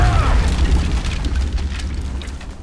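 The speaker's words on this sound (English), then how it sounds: "And then they hurl a grenade." A grenade goes off in XCOM: Enemy Unknown with a deep, rumbling boom that rolls on for a couple of seconds and slowly fades.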